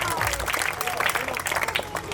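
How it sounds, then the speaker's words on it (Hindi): Enthusiastic audience applause at a village school's 15 August Independence Day function, a dense, steady burst of clapping from a crowd that continues through the whole moment with talk mixed in. "जोरदार तालियां हो जाए"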